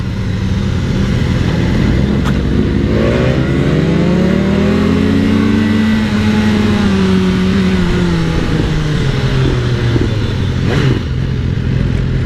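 A sport motorcycle, a BMW S1000R or a Kawasaki Ninja ZX14R, revs loud and close, its engine tone sweeping up and falling back under steady wind rush, with no talking.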